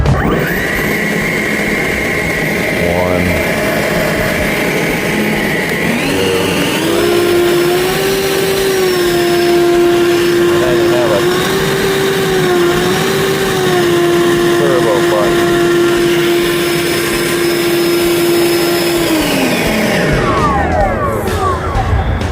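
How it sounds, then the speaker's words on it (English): A Kress cordless leaf blower runs loud and steady for about twenty seconds. Its whine rises partway through as the speed is raised, holds through a steady stretch, then winds down near the end. "I just want to weed whack and then use the blower"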